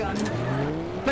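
A car in Garry's Mod DarkRP squeals its tires in a continuous skid, loud and close, with rising engine tone and a voice in the background.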